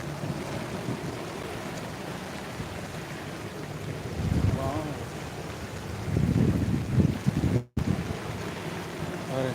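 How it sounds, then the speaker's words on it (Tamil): Water gushing down like a waterfall, rushing and churning steadily outdoors with wind buffeting the microphone, swelling louder in bursts midway through. "எப்படி கொட்டுது பாருங்கள் தண்ணி அருவியில் மாதிரி"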